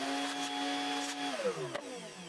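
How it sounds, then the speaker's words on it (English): A vacuum cleaner or shop vac running steadily while clearing dust out of a CNC jig after routing tenons in wood, its motor whine droning loud and close, then dropping in pitch near the end with a brief knock. "I could take the piece out, vacuum out any dust that was inside the jig"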